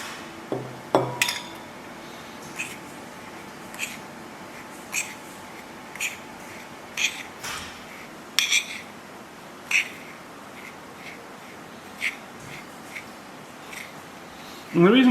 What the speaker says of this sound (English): I'm going to stir in my spices.